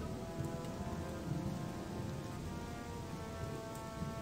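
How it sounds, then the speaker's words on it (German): Steady, even video game rainfall patters continuously, a dense wash of drops with no voices, a low rumble faintly underneath. "Ach, jetzt regnet es auch noch."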